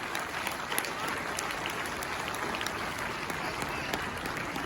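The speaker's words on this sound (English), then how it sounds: "Can we clap for them?" Audience at a school annual day event applauds steadily for the students and award winners, a dense, sustained wash of clapping from a large crowd.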